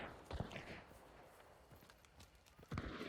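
Hooves of a horse in a multiplayer hunting video game, a few scattered clip-clop footfalls at a moderate distance over a noisy background.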